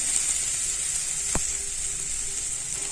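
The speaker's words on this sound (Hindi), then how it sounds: "इसको भी हम थोड़ी देर के लिए एक से दो मिनट अच्छे से फ्राई करेंगे" Chicken sizzles steadily in a frying pan during a dry fry, a constant bright hiss throughout with one sharp click midway, and no one speaking.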